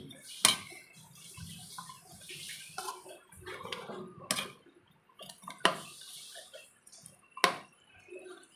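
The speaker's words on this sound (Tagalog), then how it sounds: "Haluin lang natin." Pork spareribs are stirred in ketchup in a pan, with soft scraping and clinks of a utensil against the pan, sharp taps punctuating quieter sizzling, close and fairly faint.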